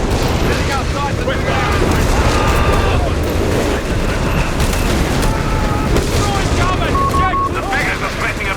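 An artillery barrage in the Company of Heroes 3 4v4 battle game, a dense loud rumble of explosions and gunfire layered under radio-style unit voices and battlefield chatter throughout.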